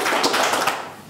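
Brief applause for a student at a school event, a short burst of many hands clapping that fades out within about a second, fairly loud and close.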